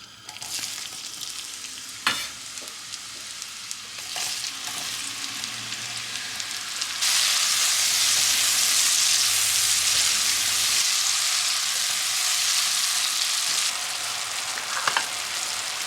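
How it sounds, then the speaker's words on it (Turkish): Mushrooms sizzle and fry loudly in butter and sunflower oil in a hot pan over high heat, with occasional stirring clicks and scrapes; the sizzle swells louder about halfway through and continues steadily. "Şimdi yağ ısıttıktan sonra yüksek ateşte mantarları soteleyeceğim."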